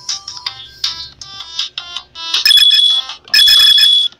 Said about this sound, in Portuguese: Barulho de moeda muito alto.